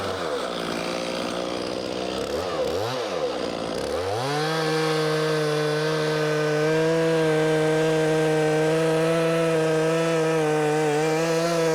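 A chainsaw cuts a notch into a tree with slow, deliberate cuts, run below full RPM. The engine drones close and loud, dips and wavers at first, then settles into a steady, sustained tone.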